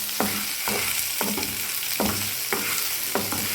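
Betel leaves lightly sautéed in a pan make a continuous close sizzle, broken by regular stirring scrapes about every half second.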